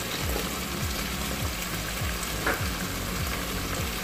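A soy sauce and salt mixture heating in a pan, sizzling and bubbling steadily throughout at a moderate level, close up, with soft repeated stirring scrapes and no voices.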